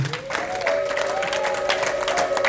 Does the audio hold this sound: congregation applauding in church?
yes